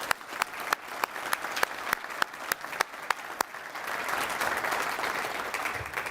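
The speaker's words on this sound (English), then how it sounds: "So can get a round of applause for those guys." At an awards luncheon, audience applause opens with a few sharp, separate claps that swell into sustained, fairly faint clapping from the whole room.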